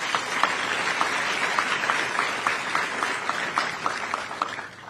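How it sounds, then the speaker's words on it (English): A crowd applauds steadily for several seconds at a U.S. Army change ceremony, many hands clapping in a dense wash of sound that tapers off at the end. "Please may we give them a round of applause."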